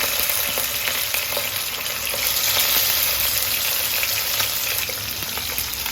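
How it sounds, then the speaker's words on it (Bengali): Sea fish frying in a frying pan produces a dense, constant, close sizzle with small crackling pops throughout, steady in loudness with no talk. "আজকে আমরা সামুদ্রিক মাছ গুণা করব মাছটা ভেজে নেব"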